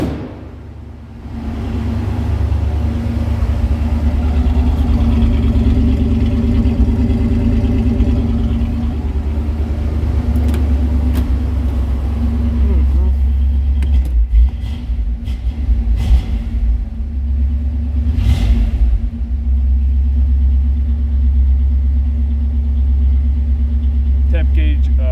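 A car engine runs steadily at idle with a deep, continuous rumble, close and loud throughout, with brief clicks and shifts partway through and a person talking over it at times.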